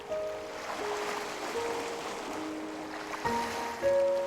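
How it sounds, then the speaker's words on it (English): Ocean waves wash and surge steadily past along open water, a continuous soft roar with a few faint tonal hums layered beneath and a slightly stronger swell near the end. "The waves adjusted as they brushed past it, flowing differently around its presence."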